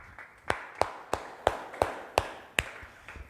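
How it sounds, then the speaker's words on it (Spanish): Rhythmic hand clapping from a church congregation, a steady beat of crisp claps about every third of a second, fairly close, with no talking over it. "Fuerte el aplauso al Rey"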